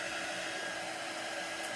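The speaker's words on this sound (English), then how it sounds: "I'm using my handy dandy heat tool. This is by Recollections" A Recollections heat tool blows hot air to dry paint, producing a steady, continuous whirring hiss from start to finish, close and even, with no talking.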